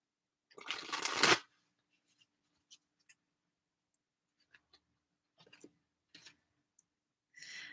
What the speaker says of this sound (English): I'm going to pick some cards from the Queen of the Moon Oracle